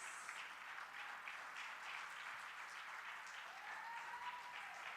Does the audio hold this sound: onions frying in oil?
no